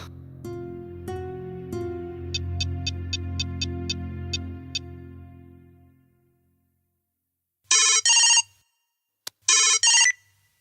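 A telephone rings in a Bhojpuri film scene: after background music fades to silence, two bright electronic ringing bursts sound close and loud, separated by a short pause.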